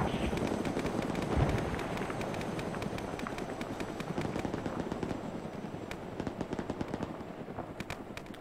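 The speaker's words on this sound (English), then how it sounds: "So we are taking fire from the east" Sustained rapid gunfire in a Vietnam-era combat video game, with dense bursts of automatic weapon shots crackling continuously and loudly, some sharp reports standing out nearer than the rest.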